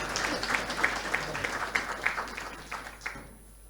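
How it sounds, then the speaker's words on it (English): Applause at a public policy summit session, a moderate crowd clapping steadily for a few seconds before fading out. "A huge round of applause for each and every one of you for being here with us today"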